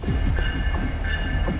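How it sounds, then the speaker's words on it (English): A train rolls past on rails through a city neighborhood, loud and close, with steady wheel rumble and high metallic squeal lines running throughout. "Shirley and Elliot, you might not have noticed the last time a train passed."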